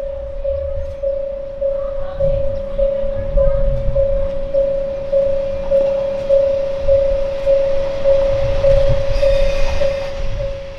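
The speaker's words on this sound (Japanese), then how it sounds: "進路を譲ったミステリートレインが再び1番ホームに入線して袋越駅を目指します。" A Kanto Railway mystery train pulls slowly into platform 1 at a station, with a steady high whine from the train and low rumbling running underneath throughout.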